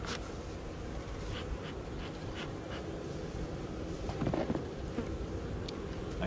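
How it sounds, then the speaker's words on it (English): A steady, dense buzz of many honeybees at an open hive fills the air, close and continuous, with a few sharper passes of individual insects. "Fair amount of bees down here,"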